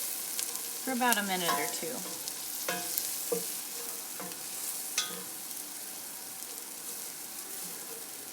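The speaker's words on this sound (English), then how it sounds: "And about 2 teaspoons of cumin. And we're just going to stir this around" Cumin and other spices stirred in a hot pan, sizzling and frying with scraping stir strokes in the first seconds, then a quieter steady sizzle while a person talks briefly over it.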